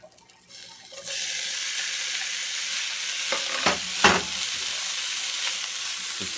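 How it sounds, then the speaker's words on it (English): Bacon rendering in a hot pan, a loud steady close sizzle that starts abruptly after a quiet moment, with occasional stirring clicks and scrapes. "render your bacon, so get your pan kind of hot"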